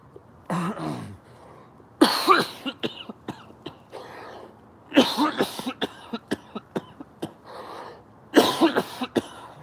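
Several bursts of harsh coughing and throat clearing, close and loud, coming in clusters with short pauses between them.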